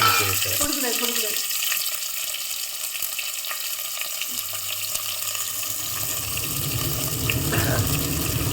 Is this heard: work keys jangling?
no